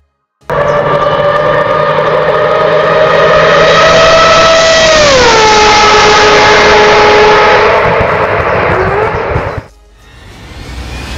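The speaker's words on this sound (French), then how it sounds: "Avec 115 décibels, la Mazda 787B est un véritable opéra mécanique" The Mazda 787B, a 1991 Le Mans-winning Japanese race car, screams at full throttle with a loud, sustained high-pitched rotary wail that drops in pitch through a downshift, then cuts off abruptly before a quieter revving resumes.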